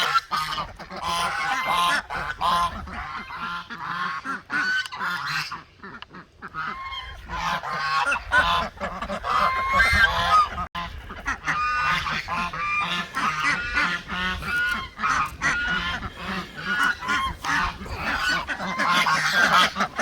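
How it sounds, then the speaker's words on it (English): A flock of geese let out of their pen on a rainy homestead honks continuously and loudly, the many overlapping calls forming a dense, busy chorus close by. "But first, I gotta let these geese out."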